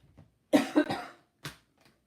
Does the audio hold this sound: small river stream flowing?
no